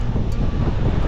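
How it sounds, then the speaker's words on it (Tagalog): Cool sea wind blowing on Catanduanes under an overcast sky, heard as a steady, loud, broadband rush buffeting close to the microphone, with no one talking. "Sarap nung hangin."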